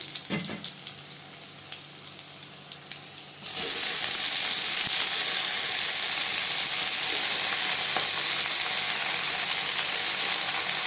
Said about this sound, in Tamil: வெங்காயம் நல்லா வதங்கிடுச்சுங்க கீரை சேர்த்துக்கலாம்